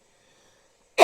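After near silence, a single short, sharp cough bursts out close to the microphone at the very end.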